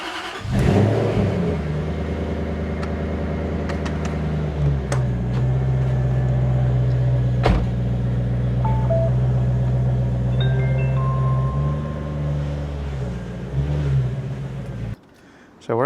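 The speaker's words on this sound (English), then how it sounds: "Car out of the garage." A Jaguar XK8 engine starts and revs, then idles at a steady hum as the car pulls out of a garage, ending with a brief drop and restart of sound.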